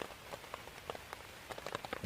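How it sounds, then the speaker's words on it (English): Rain patters irregularly on a DD A-frame mesh tent beside a stream, with scattered close drops tapping over a faint soft wash, quiet and with no talking. "And listen to the rain"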